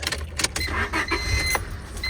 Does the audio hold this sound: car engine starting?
yes